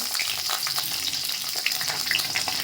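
Bay leaves and curry leaves sizzle in hot oil in a kadhai: a loud, dense, continuous crackle, close up, with no talking.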